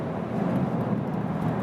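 Volkswagen Golf GTI TCR race car engine held at high RPM on a racetrack, a steady, loud, dense drone with a strong low rumble and no breaks, heard alone without talk.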